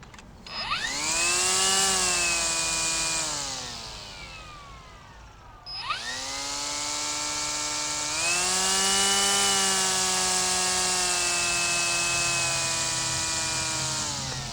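A SKIL 40V battery weed trimmer spins up twice with a rising whine, holding a steady high-pitched motor hum that does not bog down, close and loud with no talk.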